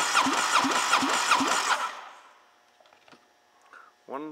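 A 2004 Polaris MSX 150 personal watercraft engine cranks during a compression test, about five rhythmic loud strokes over two seconds, then quiet clicks and a brief voice at the end.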